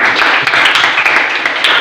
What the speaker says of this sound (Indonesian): Tepuk tangan untuk Afif.